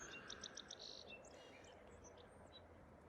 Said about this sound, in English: I could listen to blackbirds all day.